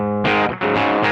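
Telecaster-style electric guitar on its DiMarzio Chopper T bridge humbucker, played clean with no distortion pedal, ringing a sustained chord then restruck twice, loud and close with no talk.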